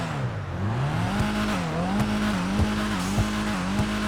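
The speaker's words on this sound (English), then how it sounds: "I want to do a quick exhaust test." A Karin Everon RS truck in GTA Online revs its exhaust repeatedly, the engine note rising and falling in close, loud blips with no voices.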